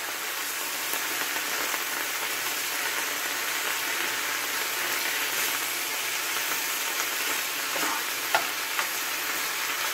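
Leafy vegetable greens sizzling and frying in a hot wok, a continuous loud crackling hiss with faint stirring clicks, no talking.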